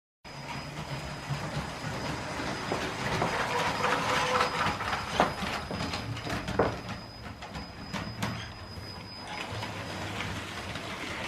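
A LEGO train on a track layout, slowing for a turn and then speeding up on the straight, gives a steady mechanical rolling whir with clicking and rattling wheel noise. It stays close and continuous, with no one talking.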